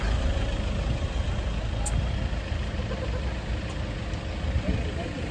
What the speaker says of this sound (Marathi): तीन किलोमीटरपर्यंत ट्रॅफिक आहे